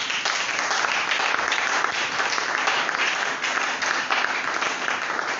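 A church congregation applauds and acclaims the Lord, producing a dense, steady wash of clapping and cheering that fills the room without pause from start to end.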